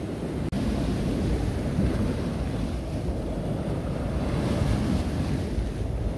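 Steady high-tide surf on the Irish Sea at Blackpool seafront washing in continuously, a dense broadband roar of breaking waves with some wind buffeting the microphone, no voices.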